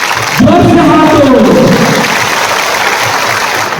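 Loud crowd applause at a political meeting, a dense, steady wash of clapping from a large gathering that swells in quickly and holds.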